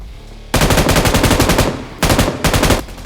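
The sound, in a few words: gunfire in the video game PUBG Mobile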